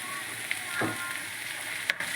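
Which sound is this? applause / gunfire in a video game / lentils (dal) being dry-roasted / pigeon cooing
lentils (dal) being dry-roasted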